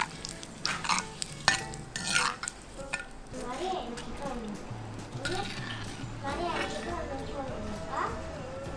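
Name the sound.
frying green chilies and curry leaves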